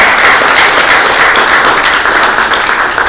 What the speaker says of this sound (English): Let's give a huge round of applause to the Chief Minister